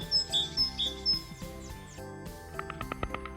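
Great tit calls heard as thin, bright repeated chirps and short tweets, fairly close, set over a background of soft tonal music, with no talking.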